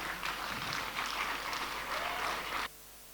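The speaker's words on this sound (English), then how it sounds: "give an amazing round of applause as we receive His Royal Majesty, Otumfuo Osei Tutu II, King of Asanteman" An audience at a silver jubilee anniversary dinner applauds in welcome of Otumfuo Osei Tutu II, the Asante king, steady clapping in waves that cuts off abruptly near the end, leaving a quiet hum.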